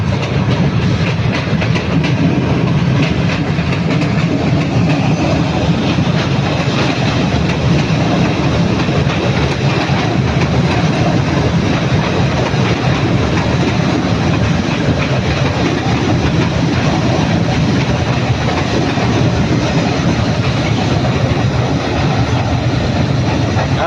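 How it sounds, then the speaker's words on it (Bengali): A train in Malaysia rumbles steadily past at close range, wheels clattering rhythmically over the rails with a constant loud roar throughout. "এই যে দেখো ট্রেনটা চলে যাচ্ছে।"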